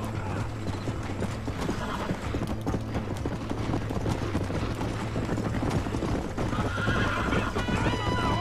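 Horses in the Red Dead Redemption video game neigh and whinny over steady clip-clopping hooves, a continuous galloping rhythm that stays loud throughout, with game music and effects underneath.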